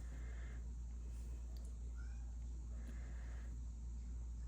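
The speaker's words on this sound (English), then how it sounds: "I hear Cheeto meowing" A cat meows faintly in the distance, a few thin, drawn-out calls that sit over a steady low indoor hum.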